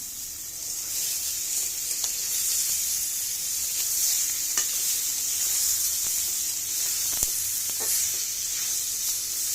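Chicken pieces sizzle steadily as they fry in spiced masala in a pan, with scattered stirring scrapes and clicks over a continuous loud hiss, no talking.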